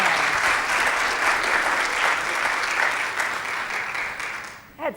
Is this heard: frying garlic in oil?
no